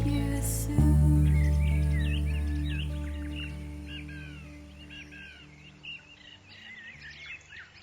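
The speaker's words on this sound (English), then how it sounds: "So do you like it? With the bird noises and all." Crows caw and other birds call outdoors, their harsh, repeated cries rising over a low droning background that fades out after a loud opening.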